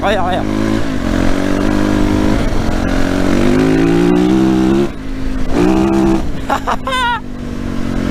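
A Yamaha 450 YZF dirt bike engine revs and pulls on a trail, loud and close, its pitch climbing through gears before dipping and surging again, with a rider talking over it.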